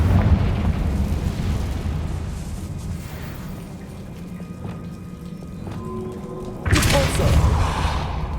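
The Confringo fire spell in Hogwarts Legacy strikes with a sudden loud explosive burst late on, after a stretch of low rumbling ambience.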